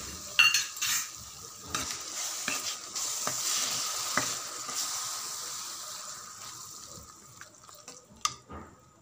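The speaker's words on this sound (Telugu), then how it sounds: "ఇప్పుడు 1 కప్పు పెరుగు, చిక్కటి పెరుగు తీసుకొని బాగా కలపాలి." Okra masala curry being stirred with thick curd in a frying pan, a steady soft sizzle under repeated scraping and clinking of a spoon, close by and moderately quiet, with a few sharper knocks.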